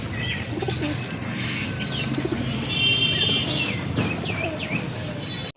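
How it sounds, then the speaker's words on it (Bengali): Giribaz pigeons coo in a loft among other pigeons, a soft low murmur running steadily throughout, joined by a few chirps and brief wing flutters near the end. "এই যে দেখেন কবুতরগুলো"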